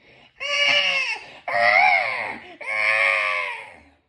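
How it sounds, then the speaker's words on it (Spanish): Eerie, wailing cry used as a sound effect in a spoken horror story, three long drawn-out sobbing wails rising and falling, loud and close with nothing else over them. "Un llanto insoportable, sobrenatural, terrible, inhumano, frío"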